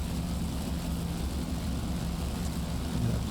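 A F4U-1D Corsair's propeller engine in the DCS flight simulator, during carrier operations, gives a steady, loud, low droning roar with an even airy rush above it, unbroken throughout and with no talk.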